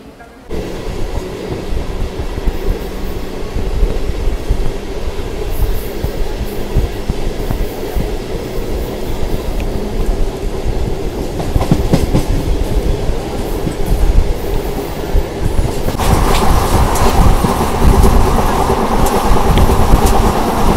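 A Mysuru–Bengaluru MEMU train, just departed from Mandya, runs at speed with a loud, continuous rumble and rattling wheel noise heard from on board, swelling slightly toward the end.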